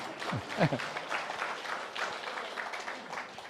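A crowd applauds steadily with a dense patter of clapping, a voice briefly heard at the start.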